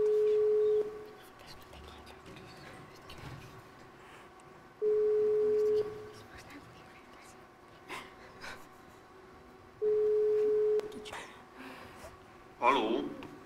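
A telephone ringback tone sounds as a call is placed during a Jesuit school quiz contest, three steady long beeps evenly spaced about five seconds apart, followed by a brief burst of noise at the end.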